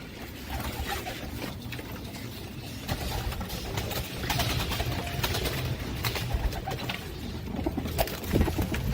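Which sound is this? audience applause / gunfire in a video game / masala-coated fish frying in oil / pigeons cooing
pigeons cooing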